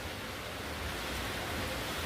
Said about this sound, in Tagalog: Ang lakas dito ng hangin.